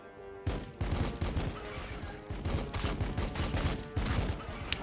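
Rapid bursts of gunfire with blessed ammunition in the Warhammer 40K Battlesector strategy game, repeated loud volleys of shots rattling one after another with brief gaps, close and dominant, no talk over them.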